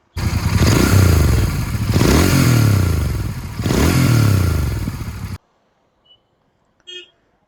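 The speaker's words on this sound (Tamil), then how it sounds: "வண்டி சவுண்டு கேட்குறீங்களா?" A motorcycle engine revs close by in a few rising and falling surges for about five seconds, then cuts off, leaving near silence and a couple of small clicks.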